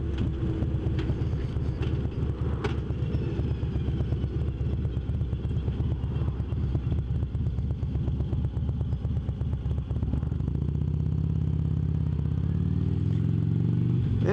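A Harley-Davidson Road Glide Ultra with a rubber-mounted, pre-counterbalanced Twin Cam engine rumbles steadily while riding, a loud, continuous low throb with wind noise over it and no talking.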